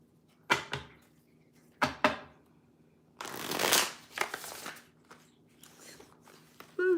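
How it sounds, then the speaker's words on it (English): Tarot cards are handled close up, with a few sharp snaps and then a longer riffling shuffle, quiet between bursts, and a brief voice near the end. "I'm going to pull out one tarot card for each of these energy oracle cards that are out."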